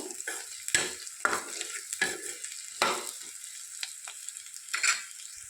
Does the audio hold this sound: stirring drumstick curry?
yes